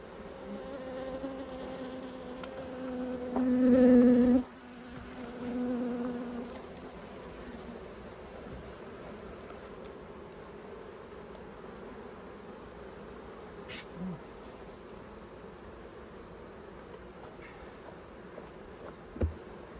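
Honeybees buzz steadily around an opened hive in an apiary, a continuous droning swarm that surges louder for a couple of seconds near the start before settling into an even hum.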